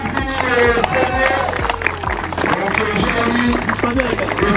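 Applause and cheering from a crowd at a kart endurance race prize ceremony, a dense patter of clapping heard under a loud announcer's voice throughout.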